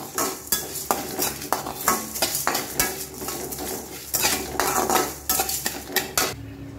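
Cumin seeds, chana dal and toor dal dry-roast in a pan with no oil, scraped and stirred in a steady run of close metallic scrapes and rattling clinks.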